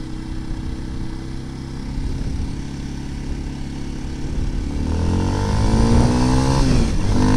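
A 200cc adventure motorcycle's engine builds from a steady idle-like drone into a rising rev as the throttle is opened gradually, getting louder and higher over the last few seconds, heard close with no talking.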